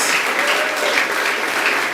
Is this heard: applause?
yes